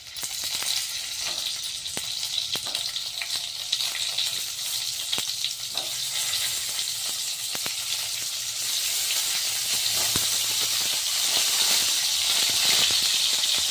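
Stuffed brinjal frying in a pan gives a steady, bright sizzle that holds evenly throughout and swells slightly toward the end, with faint scattered pops and no talking.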